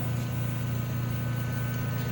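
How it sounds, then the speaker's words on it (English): An exhaust fan inside the lamp source of an ABM mask aligner draws ozone out into the exhaust line, giving a steady, even hum with a low tonal drone that holds constant throughout. "There's a fan in here that's pulling out the ozone into the exhaust."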